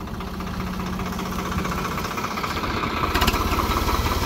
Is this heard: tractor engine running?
yes